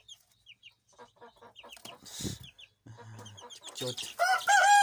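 Hens clucking in a henhouse: scattered soft clucks and murmurs close by, with a rooster-like crow rising at the end and a brief human voice in between.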